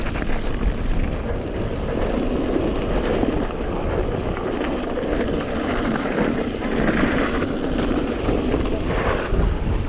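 Wind buffeting a helmet or handlebar microphone while mountain biking on a rocky natural trail in Scotland, a steady loud low rumble filling the whole stretch with no speech.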